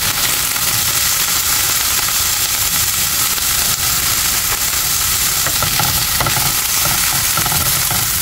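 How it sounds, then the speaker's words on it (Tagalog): Leftover chicken adobo sautés in a pan, giving a loud, steady sizzle and hiss that runs the whole time with faint stirring scrapes and no talk. "Gisa lang natin to."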